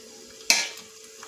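Cumin, cardamom, cashews, star anise and marathi moggu drop into hot oil for pudina pulao, giving a sudden loud sizzle that fades over a fraction of a second, close by and with no voices.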